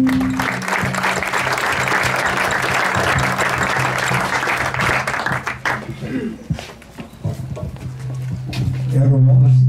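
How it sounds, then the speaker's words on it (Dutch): Warm applause from an outdoor crowd at the opening of a tennis park, dense clapping for several seconds that thins out and fades, with voices beginning to talk as it dies away. "Graag een hartelijk applaus voor Ronald Boon en Jan."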